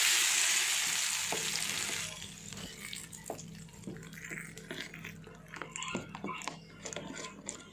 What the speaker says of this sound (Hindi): अभी मैं दोसे डाल दूँगी